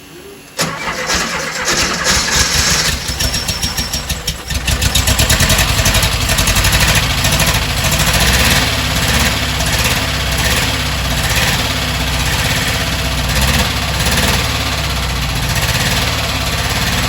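A 1968 Porsche 912 engine cranks and catches, then settles into a loud, steady idle heard up close, with a rough, pulsing rumble continuing to the end and no talking.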